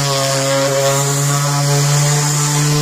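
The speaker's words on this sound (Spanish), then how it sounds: "Estoy lijando ahorita todo esto." Power sander working white melamine with 150-grit sandpaper on a pantry cabinet panel, a steady loud motor hum with strong harmonic drone running continuously and close, with no talk over it.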